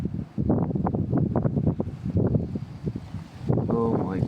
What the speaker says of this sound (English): Oh my god, big wind gust. You can hear the wind go.